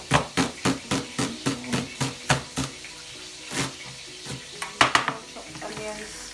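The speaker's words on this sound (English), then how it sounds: "You stir the onions with the garlic and the ginger" Chopped onions with garlic and ginger being stirred in a hot pan for a meat curry: a steady run of regular spoon scrapes over a sizzle, then a few scattered louder stirs near the end, no talking.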